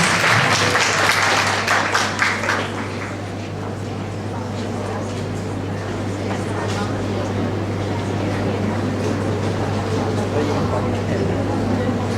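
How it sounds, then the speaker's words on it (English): A round of applause from the audience at a university speech competition greets a contestant, dense clapping at the start that fades into a steady murmur under a constant low hum. "A round of applause."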